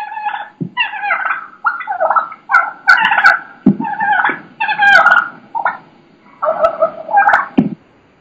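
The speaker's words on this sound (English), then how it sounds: "They're beating on my decoy. You can hear that." Wild turkeys beating on a hunter's decoy, loud close gobbling and clucking calls in repeated bursts with brief thumps between them.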